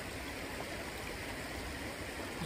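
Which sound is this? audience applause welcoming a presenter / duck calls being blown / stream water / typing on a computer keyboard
stream water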